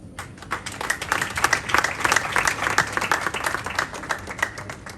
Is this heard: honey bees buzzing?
no